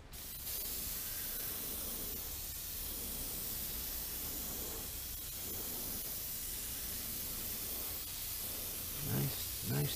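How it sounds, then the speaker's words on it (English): Airbrush spraying gray paint onto a crankbait fishing lure, a steady close hiss that runs nearly the whole time with brief breaks, ending in a couple of short louder bursts. "The way I fade it down is kind of hold my airbrush at a little bit of an angle as I'm going down"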